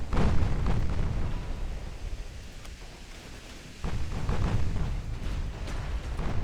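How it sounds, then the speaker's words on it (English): Deep rumbling blasts from a torpedo striking a battleship in the naval game Ultimate Admiral: Dreadnoughts, with a heavy boom that fades and then a second surge of low roaring explosions, no talking. "Torpedo landed on Albion, she's flooding again."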